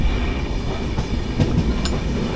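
Inside the 22208 Trivandrum-Chennai AC Superfast Express on the run from Palakkad to Chennai Central, a loud, steady rolling rumble fills the carriage, with a couple of brief metallic clicks from the wheels.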